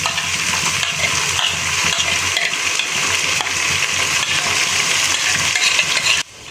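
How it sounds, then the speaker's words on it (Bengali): Ground spice paste of cumin, onion and dried chili sizzling and frying in a pan, a steady bright crackle with occasional scraping stirs, close and continuous until it cuts off abruptly near the end. "আমি এখানে মশলাগুলো সুন্দরভাবে কষিয়ে নিয়েছি।"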